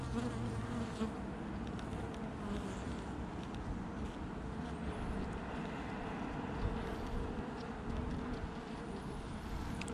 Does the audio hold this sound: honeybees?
yes